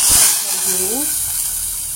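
A loud hiss and sizzle of a spice tempering in hot oil for tomato rasam, settling into a steady crackle, with a brief voice sound midway.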